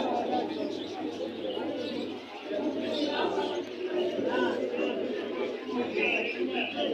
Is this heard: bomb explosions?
no